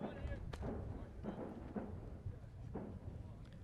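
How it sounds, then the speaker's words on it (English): Gunfire from a naval academy test range booms in the distance, several dull thuds spaced a second or so apart over steady outdoor crowd and field ambience at a college lacrosse championship game. "those are gunshots from the local test range here at the United States Naval Academy."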